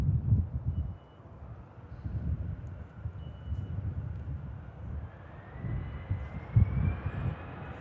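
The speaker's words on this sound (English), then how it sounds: "There goes the Air France A320" An Air France Airbus A320 jet passes by at a distance, heard as a faint, low rumble that swells and fades in uneven waves.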